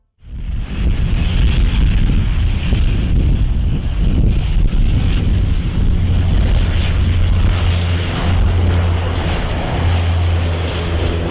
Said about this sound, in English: Watch as this firefighting aircraft collects a huge amount of water from a river.